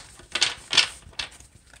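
Three quick riffling bursts from a deck of moonology oracle cards being shuffled, close and crisp with short pauses between, no talk.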